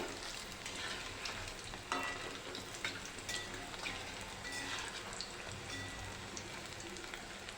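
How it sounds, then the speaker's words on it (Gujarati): Potato rolls deep-fry in hot oil with a dense, crackling sizzle, broken by scattered sharper pops; no one speaks. "આ રોલને તળાતા ચારથી પાંચ મિનિટ લાગે છે"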